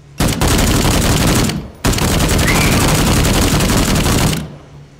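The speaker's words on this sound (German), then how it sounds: "ich habe aber viele Schüsse gebraucht" Dense, sustained gunfire from a video game, Contagion VR Outbreak, loud and continuous for several seconds with one brief pause early on, then trailing off near the end.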